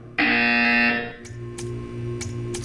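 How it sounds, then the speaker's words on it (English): A loud, steady buzzer blares in the video game Portal 2, holding for about a second before cutting off, followed by a lower hum with a few short clicks. "You will hear a buzzer."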